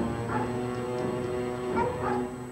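Dogs at a property housing many of them let out a few yipping barks and whimpers, mid-distance and moderately loud, over a steady tonal background hum.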